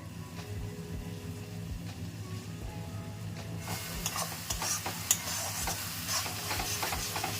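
Spice paste frying with chicken in a pan, heard as a soft continuous sizzle under repeated stirring and scraping strokes that grow busier and louder partway through.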